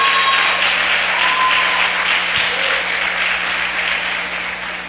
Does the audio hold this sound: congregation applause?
yes